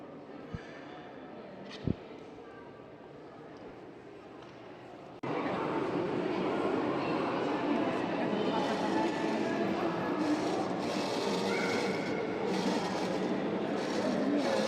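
A train station in Belgium on the way to Ghent, starting with a quiet hum and a couple of sharp clicks, then a sudden loud, steady rumble and roar of moving rail traffic with people talking underneath.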